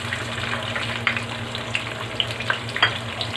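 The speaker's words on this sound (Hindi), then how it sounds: "प्याज फ्राई होने देते हैं।" Onions fry in a pan for desi chicken kahari, giving a steady close sizzle with occasional sharper crackles and pops throughout.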